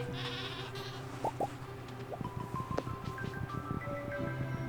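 Goats bleat in a Stardew Valley soft cheese barn, a couple of short wavering bleats standing out over a steady game soundtrack with soft clicks and chimes.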